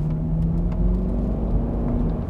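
A Range Rover engine growls in a low, steady rumble, loud and close, with no talk over it.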